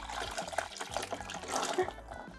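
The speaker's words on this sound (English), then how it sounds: "Next, we'll pop in our lemon juice" Lemon juice pours into a blender jar of soaked cashews for vegan cheese, a short, quiet trickling splash of liquid lasting a couple of seconds.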